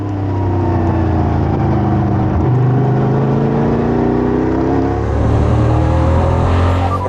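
EuroNASCAR stock car racing at Valencia, its engine a loud, sustained roar with shifting pitch as it accelerates and holds revs up close, a brief dip midway before climbing again, with no talk over it.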